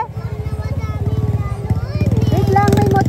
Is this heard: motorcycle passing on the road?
yes